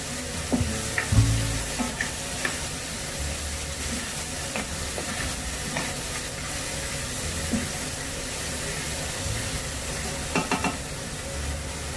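Chopped onions with a pinch of salt fry over a raised flame in a pan, giving a steady broadband sizzle throughout, with a few brief low knocks and scrapes early on and no talking.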